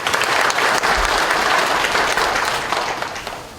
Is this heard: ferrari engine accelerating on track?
no